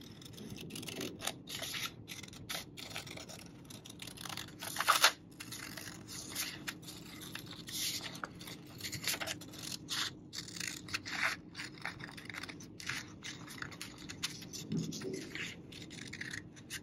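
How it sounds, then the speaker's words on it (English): Scissors cutting along drawn lines in paper during a craft project, a soft intermittent snipping and rubbing that runs quietly throughout, with one brief louder scrape near the middle. "now we're going to take our scissors and kind of cut along those lines"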